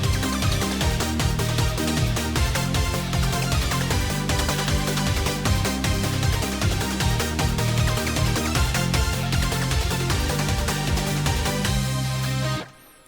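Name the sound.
programmed metal guitar MIDI track, palm-muted power chords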